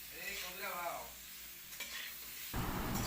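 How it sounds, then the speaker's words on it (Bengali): Young jackfruit pieces frying with turmeric powder in a pan for a vegetarian curry, giving a steady close sizzle with scraping stirs that swells louder near the end. "হলুদ গুঁড়ো দিয়ে আমি আরও কিছুক্ষণ ভালো করে এঁচোড়টাকে ভেজে নিচ্ছি।"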